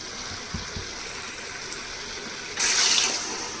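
Water is poured into a cooking pot while making egg biryani, a soft trickling under faint kitchen background and a few light knocks, then a louder rushing pour near the end.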